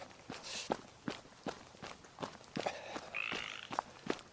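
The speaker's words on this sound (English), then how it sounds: "A tree frog" A tree frog gives quiet rhythmic clicking croaks about twice a second at a distance, with a brief higher chirp partway through.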